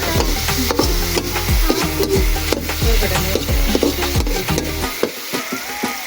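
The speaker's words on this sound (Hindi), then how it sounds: "बस इसको भूनने देंगे।" Chicken curry with garam masala sizzles in a pan while a spoon scrapes and stirs it in a steady repeating rhythm, close and loud with no talking.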